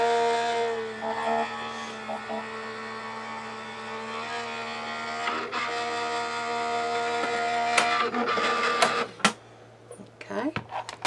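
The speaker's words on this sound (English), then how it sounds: "I'm going to run it through my electric machine" An electric die-cutting machine pulls card stock through its rollers for a mini tissue box craft. It gives a steady loud motor whir with a tonal hum for most of the clip, then it stops and there are brief handling clicks.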